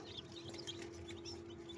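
Country chickens and newly hatched chicks on a farm give soft, faint clucks and cheeps over a steady low hum, continuous and without speech.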